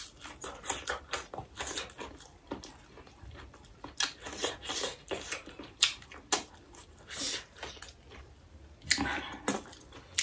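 Crunchy goat head bone being chewed up close, a run of irregular wet crunches and bites that come in quick bursts, loud and near, with no talking over it.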